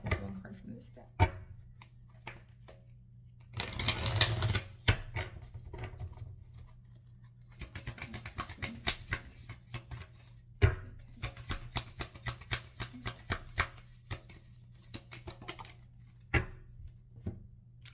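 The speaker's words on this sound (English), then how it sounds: "Just want to pull one card from this deck." Tarot cards shuffled by hand at close range, a burst of riffling near the start followed by steady runs of light flicking and patting as the deck is handled for a single-card pull, with no speech.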